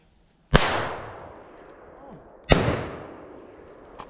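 Two loud, close shotgun blasts about two seconds apart during a gray squirrel hunt in the woods, each booming report trailing off into a long echoing decay.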